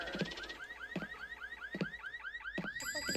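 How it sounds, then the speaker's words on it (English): A car alarm blares in the game The VHS Paradise, a loud repeating whooping warble with regular honking pulses, continuous and close, changing pattern near the end. "I thought the mechanic fixed the alarm problem, but apparently not."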